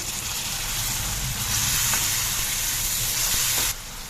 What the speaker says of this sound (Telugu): ఇప్పుడు కొద్దిగా ఫ్రై చేస్తున్నాను